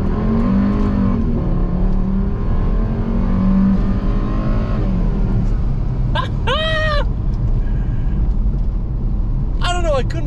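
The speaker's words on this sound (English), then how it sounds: "It was accelerating hard all the way to the red line." A Volvo S60R in sport mode accelerates hard from a turn to the red line, its engine note a loud, continuous rising roar close up, with brief tire or whine chirps standing out near the end.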